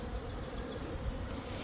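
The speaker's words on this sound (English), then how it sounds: "There's literally dozens of bees out here just kind of learning their way into the hive, out of the hive." Honeybees buzzing around the hive entrance during spring orientation flights in a bee yard, a dense, steady, close drone of many wings with no talk.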